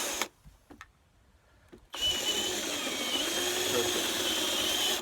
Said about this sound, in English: I got to keep the drill straight up and down on this door